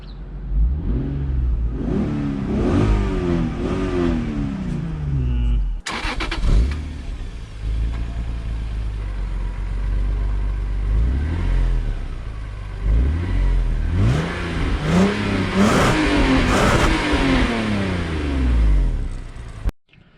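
A Lexus IS300 fitted with a new exhaust is revved hard in two bursts, the engine note climbing and falling repeatedly from close range with no one talking.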